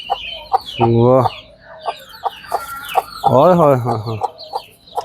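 Chickens and chicks kept at a livestock yard cluck and squawk close by in repeated bursts, with a man exclaiming over them.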